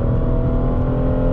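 A heavy Hyundai Azera V6 sedan rated at 245 hp, with 100,000 km on it, cruises in light drizzle, giving a steady, loud low engine and road drone that holds even throughout, with no talking.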